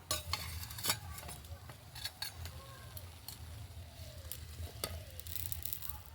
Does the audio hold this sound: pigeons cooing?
no